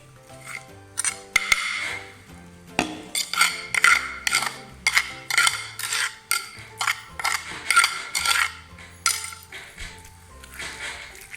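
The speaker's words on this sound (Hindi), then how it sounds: "ये मैरिनेट कर रहे हैं हम इसको, मसाला अच्छे तरीके से इसको लगा रहे हैं।" Chicken wings mixed by hand with a masala marinade and lemon juice in a bowl, giving a long series of close, rhythmic clinks and wet slaps with short pauses between strokes and no talking.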